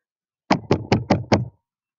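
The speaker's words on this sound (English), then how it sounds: "Knock, knock. Oh dear. Now there's somebody else at the door." Five quick, evenly spaced knocks on a door, solid and close, followed by silence.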